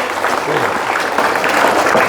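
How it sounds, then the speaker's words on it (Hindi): Dense, continuous applause from an audience at a school prize distribution for weekly examinations, steady and fairly loud throughout with no talking over it. "ताली बजा दें"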